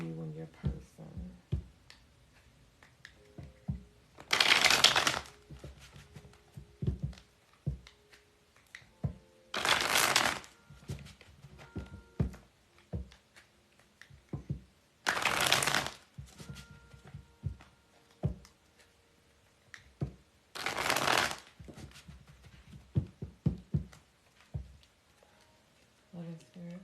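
A deck of tarot cards is shuffled in four distinct bursts of crisp riffling, each a second or so long, spaced several seconds apart, with quiet talk and small handling noises in between.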